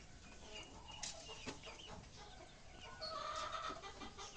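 Chickens cluck in a yard at feeding time, a scattered chorus of short clucks and squawks at moderate distance, continuous with no talking.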